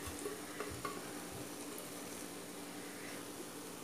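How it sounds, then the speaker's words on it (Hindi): Grated paneer being gently stirred into a sizzling masala in a pan for paneer bhurji, a soft, steady frying hiss with a few light utensil scrapes early on, fairly quiet and with no talking. "और बिल्कुल हल्के हाथ से आप इसे मिक्स कीजिए"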